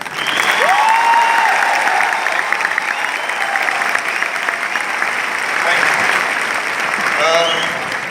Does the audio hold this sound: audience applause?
yes